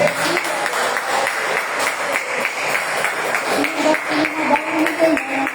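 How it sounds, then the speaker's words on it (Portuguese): A church congregation claps in praise during an evening service, a sustained, fairly even round of many hands with steady rhythmic hits, some voices mixed in underneath. "Agora sim, pode louvar a Deus com as palmas bem ligadas."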